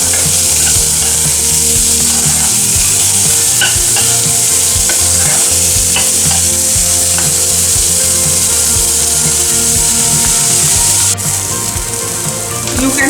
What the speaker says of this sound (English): Fry the onion for at least 7 to 8 minutes till they are little brown